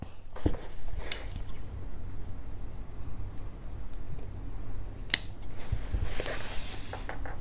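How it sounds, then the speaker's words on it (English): Scissors snip through folded fabric for a sling bag, a few short crisp cuts standing out near the start and again around the middle and end over a quiet room background. "I'm actually going to snip it"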